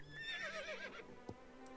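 A single horse whinny in the game Star Stable Online rises and wavers for about a second, loud and close, followed by a brief knock and quiet game ambience.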